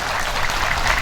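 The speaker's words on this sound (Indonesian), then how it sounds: "Tepuk tangan untuk DPR." Applause from the audience at a large Islamic religious gathering, a reunion of alumni of a Nahdlatul Ulama cadre programme, steady dense clapping filling the whole short moment without talk.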